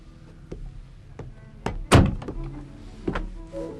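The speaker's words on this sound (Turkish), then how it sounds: "Delikanlı kapat şu kapıyı" A door being shut indoors in a home, a few light knocks and bumps leading to one solid thunk as it closes, then a couple of softer clicks.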